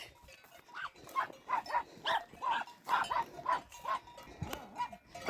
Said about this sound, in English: let the dogs do the actual chasing